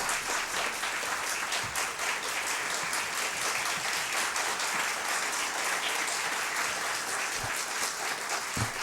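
A large audience at a book launch for a law book applauds steadily and fairly loudly for the whole stretch, a dense wash of clapping with no voices standing out.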